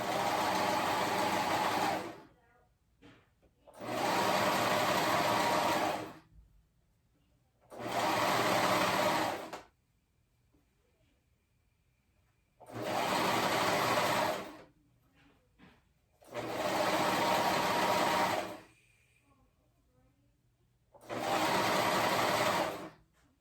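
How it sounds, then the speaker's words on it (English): Cover stitch sewing machine top stitching cotton lycra fabric, running in six steady bursts of a few seconds each, separated by short quiet pauses, loud and close with no talking. "I'm using my cover stitch, so it makes it pretty easy to just cover stitch all the way around."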